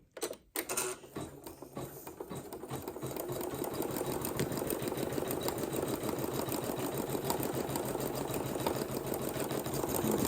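A Janome MC 9850 embroidery machine stitches steadily in a dense, rapid mechanical chatter that starts after a brief pause and runs loud and continuous, with no voices.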